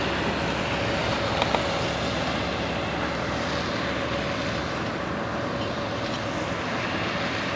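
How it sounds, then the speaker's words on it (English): A truck passes on a rural road in the Palouse farm country, a steady broadband rumble and roar heard from a distance that swells slightly and fades without a clear peak. "I heard that truck coming in"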